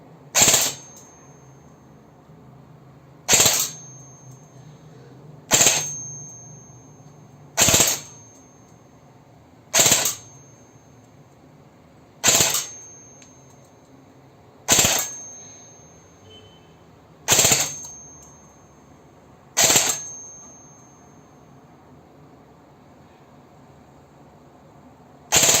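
A Cyma electric M16 airsoft gun fires yellow pellets at a target in about ten sharp, separate reports spaced a couple of seconds apart. Each crack is close and snappy and fades quickly, and no one speaks.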